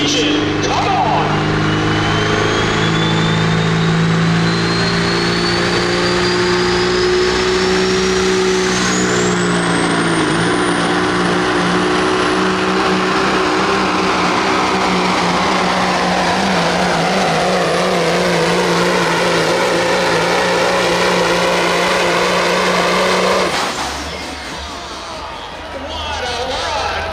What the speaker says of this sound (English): Here comes the 77 Peterbilt, the Class Act Caterpillar 3406 engine.